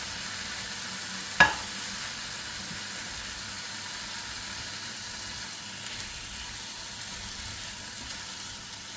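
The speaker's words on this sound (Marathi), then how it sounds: "हे सगळं असं एकजीव करून घ्यावं।" Quiet stirring of boiled potato mixture for dabeli in a pan, with one sharp clack of a utensil near the start and a soft low background hum throughout.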